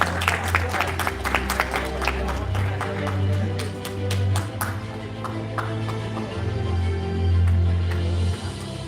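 Audience applause for the founder and CEO at an awards event, a steady wash of clapping over a low hum, with a few sharper individual claps standing out.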